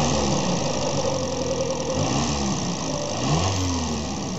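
A 1994 Mazda 323 with a five-speed manual and front-wheel drive idles loudly and steadily close by. The engine and exhaust drone runs without a break, and light revs rise and fall near the end.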